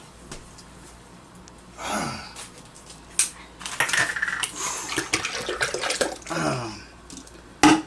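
Hershey's milkshake poured into a container, a few liquid pours and splashes mixed with clinks and knocks of the container, close and intermittent, with no talking.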